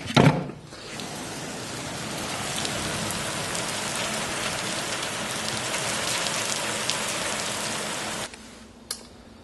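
Thunderstorm rain falls steadily on surfaces outdoors, a dense, even hiss with scattered drop patter that holds for several seconds, then drops away sharply near the end, leaving a quieter background and a faint knock.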